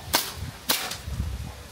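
Two sharp airsoft gun shots, about half a second apart, crack out at close range during an outdoor game with plates and boards as targets, followed by low background murmur.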